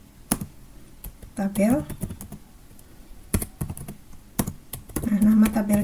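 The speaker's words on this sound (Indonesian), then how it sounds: "Kita bisa mengetikkan di sini untuk membuat tabel kita ketikkan create" Keystrokes on a computer keyboard while entering SQL in a database tool, sounding as scattered clicks and short bursts of typing, mixed in among a person's nearby speech.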